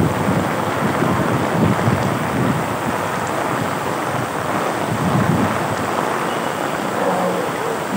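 Heavy rain pours in a steady, even roar of broadband hiss with no breaks, close and fairly loud throughout.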